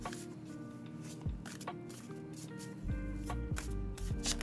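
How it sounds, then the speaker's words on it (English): A deck of tarot cards is shuffled steadily by hand, giving close, continuous papery rustles and soft riffling slaps with no one speaking. "I've been shuffling these cards for a while"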